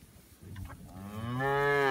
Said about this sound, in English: These are Texas Angus cattle.